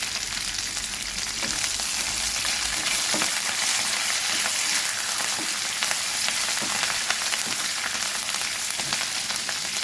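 Curry leaves sizzling with green chillies in hot tempering oil for mango rice, a steady, bright, crackling fry that carries on evenly throughout, close and loud.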